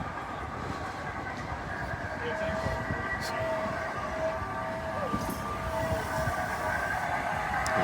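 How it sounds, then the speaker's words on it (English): A small train rumbles past at Brisbane's South Bank with a steady mechanical roar and faint metallic squeals, moderately close, filling the whole stretch. "Little train there."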